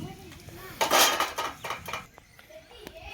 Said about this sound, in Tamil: நன்றாக வதங்கியவுடன் பொடிதாக அறுத்து வைக்கப்பட்ட பாகற்காயை சேர்க்க வேண்டும்.